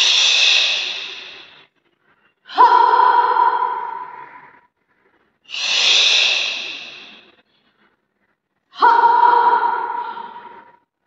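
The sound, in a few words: Bhastrika bellows breathing, yoga pranayama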